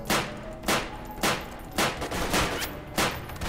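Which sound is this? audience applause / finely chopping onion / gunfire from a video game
gunfire from a video game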